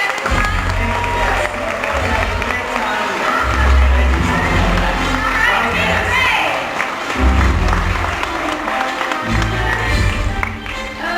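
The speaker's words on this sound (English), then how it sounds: "one more big round of applause for Taylor Craig." Crowd applause and cheering for a voice actor at a Star Wars Weekend stage show in June 2014, a loud, dense wash of clapping and shouts that holds steady for about eleven seconds, with voices mixed in.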